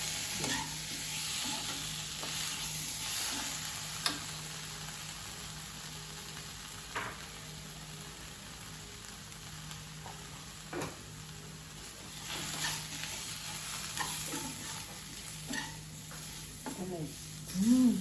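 Tomato and masala powder frying in a pan for a Kerala-style squid roast, a soft steady sizzle with occasional stirring scrapes, faint and close, with a few quiet voices in the background.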